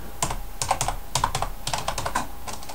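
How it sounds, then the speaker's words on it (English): Fingers tap out quick bursts on a computer keyboard, close and crisp, with short pauses between clusters of keystrokes. "I'll just type in the author's name"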